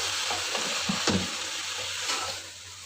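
Okra with onion, Kashmiri chilli and dried coriander powder is stirred in a sizzling pan, a continuous close fry with a few distinct utensil scrapes and knocks, easing slightly at the end.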